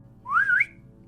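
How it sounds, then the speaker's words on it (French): One short, clear whistle that rises and wavers slightly before fading, alone against a quiet low hum. "Mais le sifflement s'est répété,"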